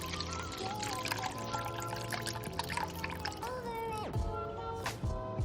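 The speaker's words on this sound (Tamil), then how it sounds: "இந்த ஸ்டேஜில் நாம் கரைச்சி வச்சிருக்க பருப்பு தண்ணியை நாம் இதில் விட்டுடலாம்." Dissolved dal water is poured into boiling pepper rasam, a soft continuous trickle and splash of liquid heard under a steady background drone, with a voice speaking over it.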